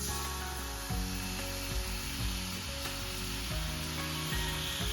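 Two tablespoons of soy sauce sizzle hard in a pot already on the heat, a steady, dense frying hiss that runs close and loud throughout, with faint low clinks underneath and no talking.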